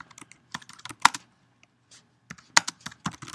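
Typing on a computer keyboard, a few short clusters of close, crisp key clicks with a couple of louder strikes and a brief gap in the middle, and no voice.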